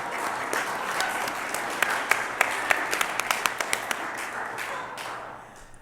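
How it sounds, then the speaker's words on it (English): A small audience at a Rotary club meeting gives a short round of applause for a speaker: scattered, fairly close hand claps with a few sharp individual claps standing out before the clapping tapers off. "I'm going to clap for you if nobody else does"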